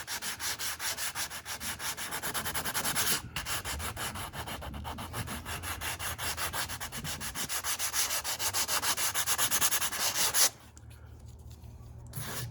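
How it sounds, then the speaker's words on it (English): Hand sanding Porsche 914 top and rocker panels with 150 grit paper: rapid, steady back-and-forth rasping strokes close up, pausing briefly and then resuming more quietly. "now we're just going to do a light amount of sanding on these with the 150 grit paper."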